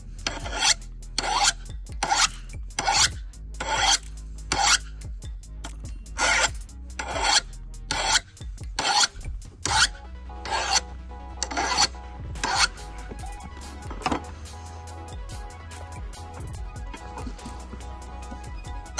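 A blade edge is sharpened with a file in a series of rhythmic, loud rasping strokes, each a short gritty scrape, repeating steadily and then becoming quicker and softer toward the end.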